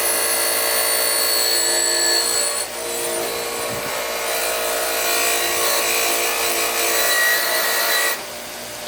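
Rotary polishing tool working an aluminum part of a vintage Honda Z50 or CT70 mini trail motorcycle, giving a steady high whine with rubbing friction, close and continuous, briefly easing midway and cutting off near the end.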